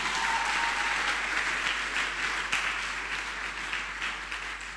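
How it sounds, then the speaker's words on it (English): A round of applause for the facilitators at a closing ceremony, a dense crowd clapping loud and sustained that slowly tapers off, with no voices. "let's just give them a round of applause"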